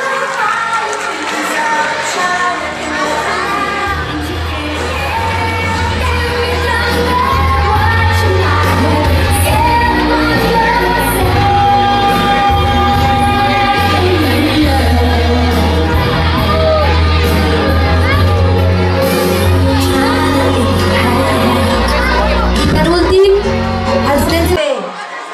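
Children's class at a school infant awards ceremony applauding and cheering loudly and steadily, a dense crowd of young voices shouting and whooping over continuous clapping throughout.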